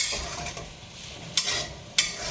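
Sabudana mixture stirred in a hot pan makes a continuous sizzling fry, with two sharp scrapes of the spoon near the end and no voices.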